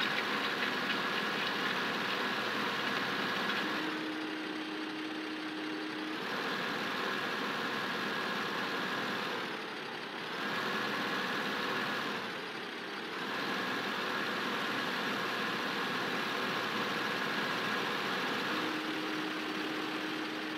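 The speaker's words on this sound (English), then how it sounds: "so you guys could hear the tractor and whatnot" A steady tractor engine in Farming Simulator 15 drones and idles throughout while plowing, its pitch shifting slightly a few times, with no talking.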